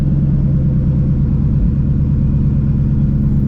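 Loud, steady engine and exhaust rumble from a supercharged 800-horsepower Shelby GT350 Mustang with a new exhaust setup, heard from inside the car as a continuous, heavy low drone with no break.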